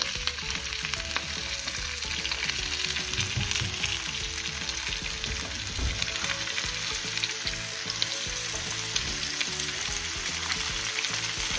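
Perch frying in a hot pan, a steady, loud dense sizzle that crackles continuously throughout with a few faint stirring knocks, no voices.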